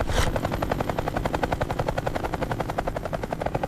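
A helicopter's rotor thumps in a fast, steady chopping pulse, loud and close throughout, with no voices.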